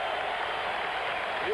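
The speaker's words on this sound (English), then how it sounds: "You can hear the crowd in the Memorial Coliseum" A packed basketball crowd in the Memorial Coliseum during the 1977 NBA Finals, a dense continuous roar of cheering and applause that holds steady throughout, with a voice talking over it.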